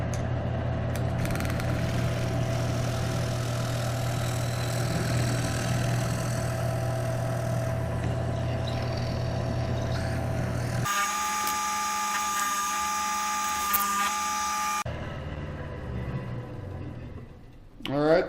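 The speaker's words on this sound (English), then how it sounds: "all you do is turn on the lathe, put it in the middle, and basically ride it in really fast" A wood lathe hums steadily at close range while a bloodwood bowl blank turns on it, then the motor note shifts to a higher, brighter whine before winding down, ending with a faint bump.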